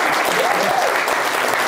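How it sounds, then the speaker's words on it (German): An audience claps steadily at the end of a talk on the human factor in paragliding, a dense, even applause filling the whole short stretch. "Dankeschön und Applaus."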